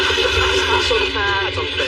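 In a comedy panel show's sound quiz, a horse's whinny is played loudly over dense, aggressive music. It is a short, wavering call, and voices murmur in the background.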